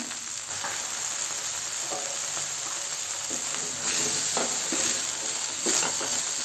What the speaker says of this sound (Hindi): इसी तेल में आलू मिला देंगे